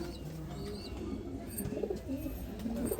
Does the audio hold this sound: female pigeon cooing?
yes